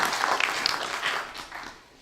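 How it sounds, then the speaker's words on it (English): Audience applause welcoming a speaker to an evening IEEE SMC talk on immersive technology: a brief burst of dense clapping that fades out after about two seconds. "Let's have a big applause to welcome"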